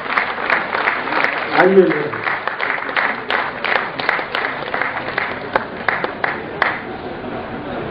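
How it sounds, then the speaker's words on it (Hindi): Audience applause at a Hindi poetry gathering, a steady burst of clapping that rises and lingers across the whole stretch, with a voice briefly speaking over it. "बैरागी जी के लिए एक बार दोबारा तालियां इसलिए आप लोगों को बजानी पड़ेंगी"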